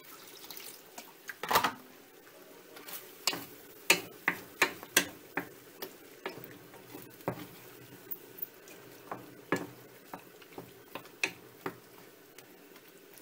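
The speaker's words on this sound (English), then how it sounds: "add some more water" Water is poured into a cooking pot while a vegetarian shepherd's pie is being made, heard as soft splashes and drips amid scattered clicks and taps of kitchen utensils, fairly quiet and close.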